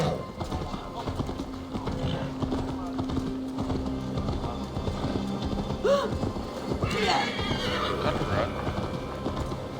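A horse in the video game Assassin's Creed Valhalla whinnies and its hooves clip-clop steadily beneath game music and ambience, with someone speaking briefly over it.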